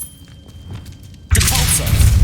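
A Revelio spell cast in the Hogwarts Legacy video game bursts in midway as a loud, sustained shimmering whoosh with a low rumble, following a quieter stretch of faint game ambience.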